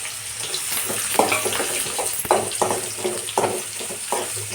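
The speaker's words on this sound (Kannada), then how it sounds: "ಇದು ಇಲ್ಲಿ ಹಸಿ ವಾಸನೆ ಹೋಗೋರಿಗೆ ಇದನ್ನ ಫ್ರೈ ಮಾಡ್ಕೊಬೇಕು" Chopped radish and onion fry in a pan with chilli, giving a steady sizzle. Periodic scraping stir strokes sound close up, with no talk over them.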